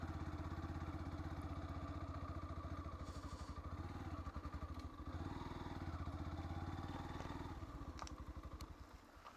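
A motorcycle idles on an off-road trail with an even, rapid engine putter that stays steady and fairly faint for several seconds, then dips slightly near the end.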